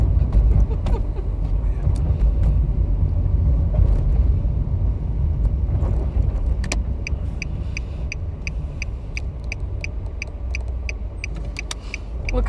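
Inside a Ford Explorer on the move, a steady low road rumble and engine drone fills the cabin, with faint light rattles and occasional clicks near the end.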